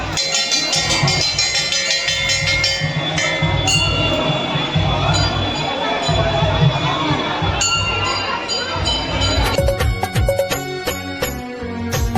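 Devotees crowd the Jatmai Ghatarani temple, their dense chatter and voices filling the space, with metallic clinks and bell-like ringing cutting through, and sharper rhythmic clanking building near the end.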